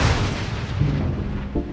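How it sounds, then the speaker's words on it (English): A hail cannon protecting farm crops fires a deep, rumbling boom that rolls on as a sustained low roar, loud and outdoors, with a second thump near the end. "This is the hail cannon to lessen the chance of hail damaging our crops."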